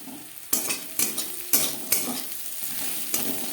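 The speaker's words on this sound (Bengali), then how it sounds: "পেঁয়াজ অবশ্যই লালচে করে ভেজে নেবেন" Onions frying in a pan with a steady sizzle, broken by about six sharp scrapes of a spatula stirring them at irregular intervals, close and clear with no talking.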